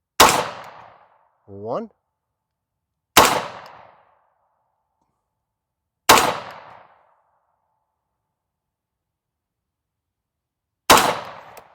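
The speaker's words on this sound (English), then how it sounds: "We're just going to fire 3-4 rounds, nice and controlled." Four sharp .300 Blackout rifle shots crack out at a steady, spaced pace, each loud and close with a short decaying tail; a brief spoken word falls between the first two.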